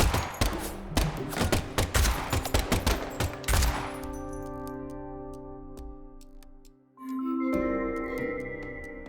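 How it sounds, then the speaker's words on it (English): Gunfire in the Deadly Premonition 2 video game, a rapid burst of sharp shots for about four seconds, then fading into sustained tonal music with no speech. "the last gunshot we heard sounded ominous, Zach."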